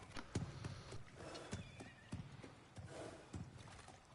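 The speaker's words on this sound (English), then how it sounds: "It's a horse made from kelp, it looks like. Or covered in kelp." A kelpie, a horse made of or covered in kelp in the God of War Ragnarök game, neighs and snorts close by, with scattered hoof clops and soft movement sounds, quiet overall.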